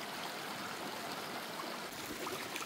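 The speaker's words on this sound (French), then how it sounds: "Petit cours d'eau qui longe la paroi et qui du coup fait des petites cascades toutes mini." A small mountain stream trickles along a rock face in tiny cascades, a steady close-up babble of running water with no voices or other sounds.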